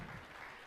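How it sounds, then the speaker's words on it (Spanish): A church congregation claps together in a short, dense burst of applause heard from within the crowd. "un aplauso al Señor"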